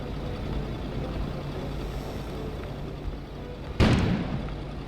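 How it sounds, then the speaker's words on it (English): A sudden loud explosion bursts outside near the end, rising sharply out of a steady low rumbling background and then dying back down. "An explosion suddenly occurred outside."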